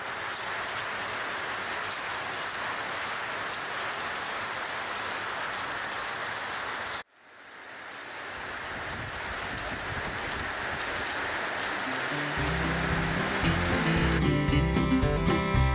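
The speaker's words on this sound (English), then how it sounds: "Rain in the desert." Steady rain falls in the desert at first light, a dense even hiss that cuts off briefly, then returns and builds louder with heavier patter toward the end.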